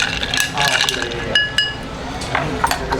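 Ice stirred in a cocktail mixing glass for a yuzu old fashioned makes light clinks and rattles, close and fairly quiet, with a few brighter chimes among the steady swirling.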